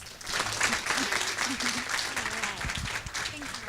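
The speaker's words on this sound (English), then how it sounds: "can you all give me one more round of applause?" An audience gives a round of applause at an alumni talk, a steady, moderately loud clapping with a few voices mixed in.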